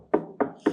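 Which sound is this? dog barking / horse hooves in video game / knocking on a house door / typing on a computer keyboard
knocking on a house door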